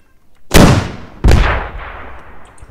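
Two loud, sharp blasts of a rocket launcher firing in a military shooter game, the second following under a second after the first, each trailing into a brief echoing rumble.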